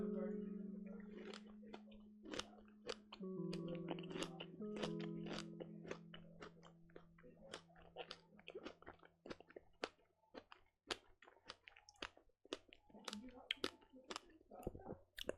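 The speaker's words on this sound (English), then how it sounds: "Sorry, I'm just chewing my strawberries." Someone chews strawberries close to the mic, a long run of small wet clicks and squishes, with quiet voice-like tones early on.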